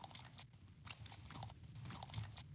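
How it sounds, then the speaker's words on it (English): Walking footsteps in the 1994 DOS game Dragon Lore, rendered as a wet, crunchy chewing effect repeating in quick irregular bites, quiet and close with nothing else over it. "It's got kind of like a chewing sound effect for walking around"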